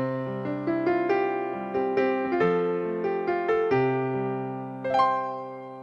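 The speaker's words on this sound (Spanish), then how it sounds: "¡Un piano!" Piano in a children's instrument-guessing song plays a short melodic phrase with sustained chords, close and clear, with no talking.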